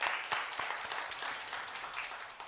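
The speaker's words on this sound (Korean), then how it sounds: "주님 앞에 우리 영광의 박수 올려드리겠습니다" A church youth congregation gives a round of applause during a Sunday worship service, sharp individual claps standing out within steady clapping that gradually thins over a couple of seconds.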